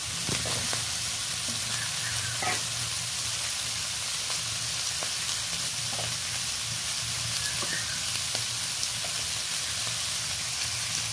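Eggplant pieces frying in a small amount of oil give a steady, close sizzle throughout, with a few light clinks and stirring sounds and no talking.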